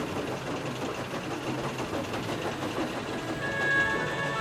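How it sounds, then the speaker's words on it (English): Four steam engines puffing as they pull a special train out of a station in an animated railway story, a rhythmic chuffing over a steady rumble with a whistle-like tone near the end. "the 4 engines puffed out of Ellsbridge with the Great Western Special behind them."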